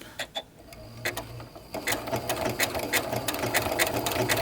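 Sewing machine stitching a quilt block in short stop-start bursts, a close mechanical whir with clicking stitches that grows into a steadier run toward the end.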